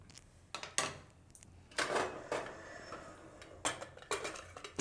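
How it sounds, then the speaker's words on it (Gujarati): Metal clanks and clicks as a pressure cooker lid is fitted and closed over potato and chana dal curry, several sharp close knocks and scrapes in a quiet kitchen. "હવે આપણે કુકરનું ઢાંકણું બંધ કરી દઉં"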